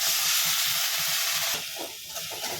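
Ground drumstick leaves sauté in a hot pan with a strong, steady sizzling hiss that eases partway through. Soft stirring scrapes come through underneath, and no one speaks.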